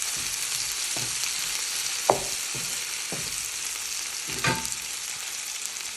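Tomatoes frying in a pan with salt and turmeric, a constant bright sizzle with a few soft scrapes of stirring, heard close and alone.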